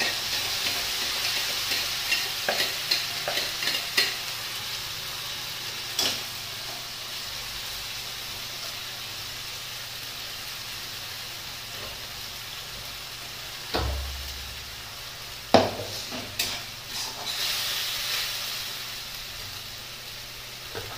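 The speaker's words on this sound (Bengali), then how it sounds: "পেঁয়াজটা দেখো পুরোপুরি ভাজাভাজি হয়ে গেছে লাল লাল করে, এবার মশলাটা দিয়ে দিলাম।" Onion fried until reddish brown in a pan, with spices just added for a chicken curry, sizzling steadily with stirring scrapes and a few louder clatters, no talking.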